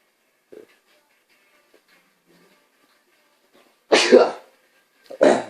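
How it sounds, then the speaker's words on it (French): A person sneezes twice, loud and close, in a quiet room: two sharp bursts about a second apart, with faint small sounds before them. "Voilà, j'ai éternué."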